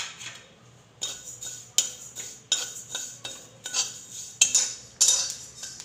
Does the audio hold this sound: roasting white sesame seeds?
yes